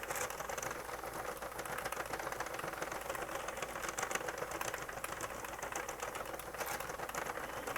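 A Sentro circular knitting machine is cranked through rows of a hat, giving a fast, continuous plastic clatter of ticking needles at a quiet, even pace close by, with no voices.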